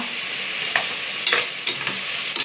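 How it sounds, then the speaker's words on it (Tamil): Tomatoes sauté in a pan for mushroom biryani, a steady close sizzle broken by several brief scraping stirs of a spoon, with no talking. "இப்போ தக்காளி நல்லா வதங்கிருச்சு"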